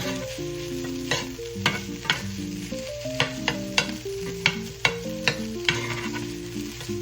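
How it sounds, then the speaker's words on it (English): Breakfast chimichanga filling sizzles in a cast iron skillet while a spatula scrapes and taps rhythmically against the iron. A tonal background music bed runs underneath, no speech. "continue grinding it up as we stir it all in"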